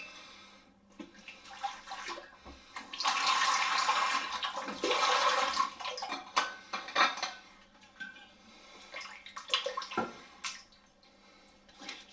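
Running water splashes and gurgles in a sink while a Merkur Digress XL safety razor is rinsed, with clinks and small knocks between bursts of flow; close, no speech.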